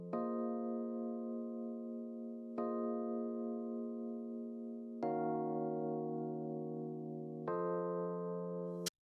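Compressed piano chords from a beat, four sustained chords struck roughly every two and a half seconds with a level, even body between attacks, alone and without speech.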